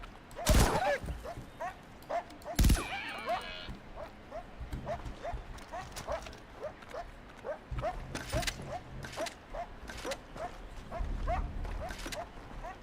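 A dog barks somewhere off in the distance, a long series of evenly spaced, fairly faint yips and barks continuing steadily, with a couple of sharp louder knocks near the start and low room noise.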